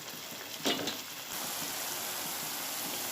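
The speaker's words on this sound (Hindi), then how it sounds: "ये देखिए, मसाला पक रहा है।" Onion and masala spices fry in a pan for a bhelbhal curry, giving a steady close sizzle with a brief louder crackle burst early on, then an even hiss.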